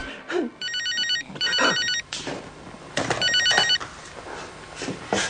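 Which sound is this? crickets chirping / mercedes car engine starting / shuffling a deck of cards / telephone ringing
telephone ringing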